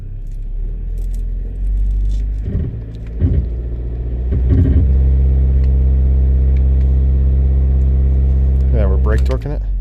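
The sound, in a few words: 2006 Volkswagen Passat 2.0T engine revving in gear while brake torquing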